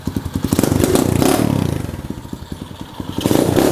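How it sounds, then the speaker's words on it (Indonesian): An HSX 110 mini trail motorcycle engine with header exhaust and silencer revs in quick, choppy bursts close by, its exhaust popping and rattling as the throttle is blipped repeatedly. "header knalpot dan silencer ini pas banget nih, kerasa banget suaranya enak"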